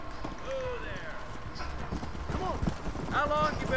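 Horse hooves clip-clop steadily in Red Dead Redemption, a continuous mid-level trotting rhythm running under game ambience, with a brief whinny-like tonal sweep near the end.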